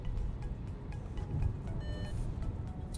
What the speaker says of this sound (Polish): zrobimy sobie pomiar elastyczności 60-90, gaz podłogę